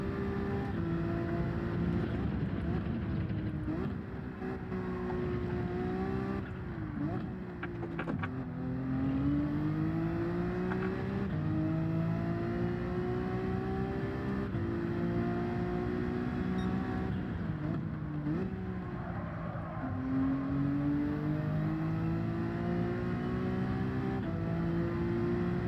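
Race car engine revving hard and continuously in Gran Turismo 7 during a daily online race, its pitch climbing and dropping with gear shifts, loud and close throughout with no talk over it.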